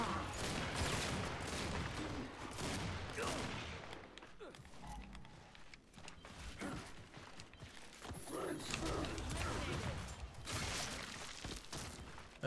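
Gunfire and mechanical clatter from the Gears 5 Guardian match on the Reclaimed map, including sniper rifle shots: repeated sharp cracks and bursts layered over a busy, dense game soundscape with brief quieter stretches.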